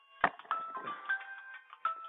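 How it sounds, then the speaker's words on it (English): A mobile phone rings with a short electronic ringtone melody of a few repeated tonal notes, fairly faint and with no one talking over it. "sorry about my phone going off"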